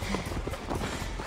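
Horse galloping in the video game Assassin's Creed Valhalla, rapid dense hoofbeats thudding close and loud in a brief continuous burst.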